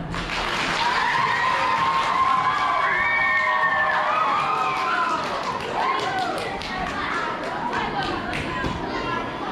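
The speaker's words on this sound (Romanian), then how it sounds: "Haideți să-i aplaudăm!" An audience in a school hall claps steadily for primary-school pupils of classes I–IV about to give a poetry recital, with children's voices and chatter mixed in throughout.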